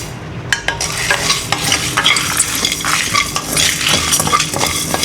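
Coriander seeds, cumin and dried chillies dry-roasting in a pan over a low flame, rattling and crackling under busy scraping and metallic clinks of a spoon stirring, close and fairly loud.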